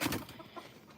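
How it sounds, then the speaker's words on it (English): Chickens cluck softly in short, scattered calls, quiet and slightly distant, with no talking. "So there's all of the chickens."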